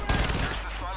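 Rapid automatic gunfire from a gun in the video game Payday: The Heist, a short dense burst of shots lasting about a second.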